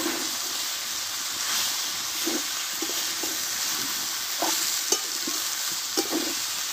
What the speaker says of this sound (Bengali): দিয়ে পালং শাকটা ভালোভাবে একটু আমি 3 থেকে 4 মিনিট মতো ভালোভাবে কষে নেব।